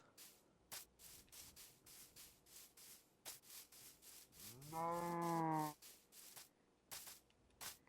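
A single cow moos loudly in a farming video game, a long harmonic call lasting about a second, set among repeated clicking and rubbing noises of gameplay; no voices.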